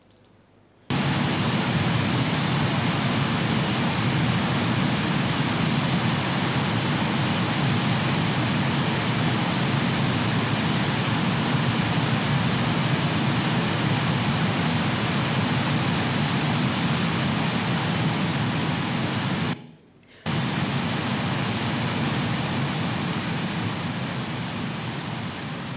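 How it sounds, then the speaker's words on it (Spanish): The Segura river flows past Rincón de Beniscomia as a steady, loud, broadband rush of water, continuous for the whole stretch apart from a brief dropout near the end. "vamos a escuchar cómo suena el río Segura a su paso por Rincón de Beniscomia"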